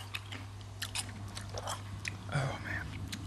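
Crunchy super sour candy like lemon warheads being chewed close up, with repeated crisp bites and mouth noises over a low steady hum and faint background sounds.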